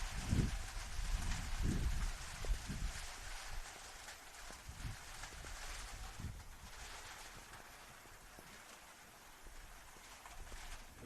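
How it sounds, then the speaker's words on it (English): Heavy sideways rain at an outdoor football ground, with dense hiss of rain and strong wind buffeting the microphone in low gusty thumps, loudest at the start and steady throughout. "I've never seen it rain this heavily and this sideways."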